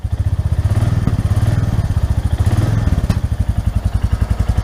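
A Royal Enfield Classic 350 motorcycle with 59 km on it idles close by in a steady, rhythmic single-cylinder thump, each beat distinct and evenly paced, with no voices.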